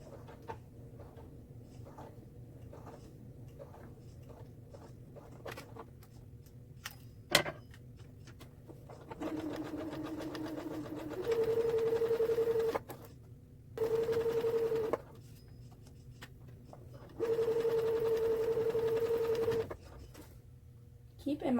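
A home sewing machine stitches a seam in bursts of steady whirring, running for a few seconds at a time between pauses, and a voice talks quietly through the stitching.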